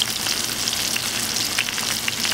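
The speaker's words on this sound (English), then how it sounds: "it's not real exciting watching abalone fry" Abalone frying in hot grease, a steady, crackling sizzle with scattered pops, close and continuous without any talk.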